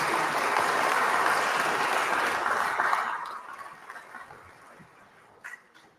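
Applause or hand clapping for a show's audience, a dense wash of claps that fades out over a few seconds, leaving faint scattered claps and one brief late burst.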